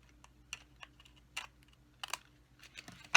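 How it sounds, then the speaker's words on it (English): Snips cut a piece of acetate with a series of sharp, close, fairly quiet clicks and snaps at irregular intervals, no talking. "I'm just going to use my snips to cut off that piece of"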